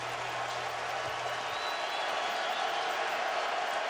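A partisan Iowa college football crowd roars at Kinnick Stadium. The noise is a dense, constant wash of cheering that holds steady at a loud level throughout, with a broadcaster's voice faintly under it.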